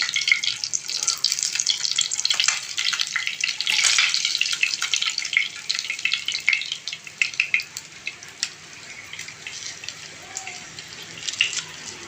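Pabda fish frying in oil over a high gas flame, a bright hissing sizzle that is strongest early and gradually thins out, close with no speech.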